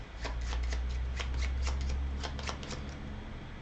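A deck of cards for the Viscounts of the West Kingdom board game being shuffled close up, a steady run of quick riffling bursts over about four seconds with no talking.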